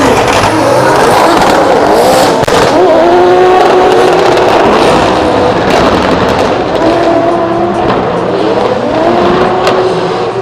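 A twin-turbo V8 drift car roars loud and close during night practice at Drift Masters in Germany, its engine pitch rising and falling through repeated revs over a continuous dense roar.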